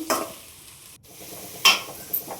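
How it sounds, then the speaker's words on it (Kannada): Onions fry in a pan for chicken fry, a soft background sizzle punctuated by a few sharp scraping stirs of a spoon, close up with no voices. "ಸ್ವಲ್ಪ ಚೆನ್ನಾಗಿ ಈರುಳ್ಳಿ ಫ್ರೈ ಆಗಬೇಕು."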